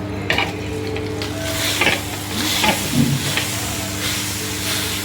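Hot Kolhapuri thecha ingredients being rubbed and crushed by hand while still warm, a steady gritty scraping and grinding with faint sizzle-like hiss, close and continuous with a few sharper rubs, no talking.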